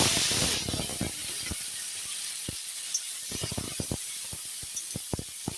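Cooking oil heats in a wok in a home kitchen, starting with a brief burst of loud broadband hiss that settles into a steady soft sizzle dotted with irregular sharp crackles and pops.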